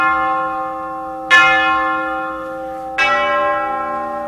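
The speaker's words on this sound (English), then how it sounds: "And then there are spine-chilling funeral bells." Two loud funeral bell strokes ring out a second and a half apart, each a deep, rich toll that hangs and slowly decays, with no voices.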